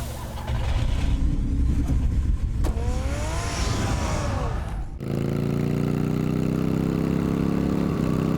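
A car engine running in a video game, a steady mid-pitched hum with a rising rev partway through, then settling into an even idle drone, with no voices.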